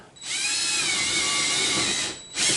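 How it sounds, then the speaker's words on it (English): A power drill with a 3/8 bit whines at high speed for about two seconds while boring a pilot hole into drywall, close and steady, then stops briefly and spins up again. "And I drill another pilot hole."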